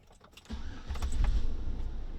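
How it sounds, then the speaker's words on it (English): A car engine cranks and catches in a Chevy Silverado, Tahoe, Suburban or GMC Yukon, with a brief click and jingle first, then a steady low idle rumble filling the rest, close and fairly loud. "We're going to start the vehicle."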